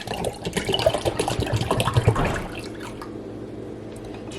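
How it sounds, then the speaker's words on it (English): Water is poured into a bottle of coffee for cold brew, giving a close, gurgling splash for about two and a half seconds before it fades to quiet. "So gonna add the water."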